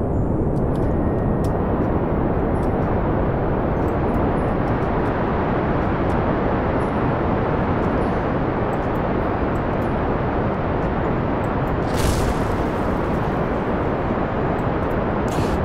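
A rocket engine roars steadily and loud during a descent toward the Mun in Kerbal Space Program, a continuous broadband rumble with no pauses.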